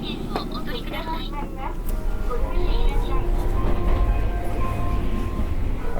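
Kishigawa Railway's Cat Museum train car runs over the rails in Japan, a steady low rumble and rattle that swells slightly midway and holds close and continuous, with faint voices mixed in.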